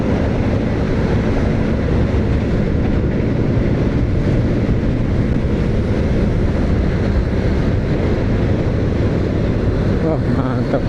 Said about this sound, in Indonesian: Oh, ada kereta di samping tuh.